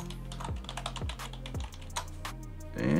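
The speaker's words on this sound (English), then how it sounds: "and then we type in our password" Typing a password on a computer keyboard: a quick run of light key clicks, close and fairly quiet, with no talk over it.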